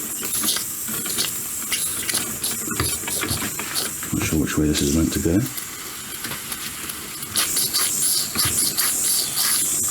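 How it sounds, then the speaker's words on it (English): Steam hissing from the drain valve of a small model steam engine kit as water drains out, a steady broadband hiss running throughout with a speaking voice over it. "just open and let some steam through, and we'll just let that drain of water."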